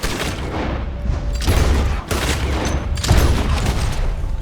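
Gunfire from Red Dead Redemption 2 cracks out in two sharp volleys, each with a bang and a dense rattling tail, over a steady rumbling background with no talk.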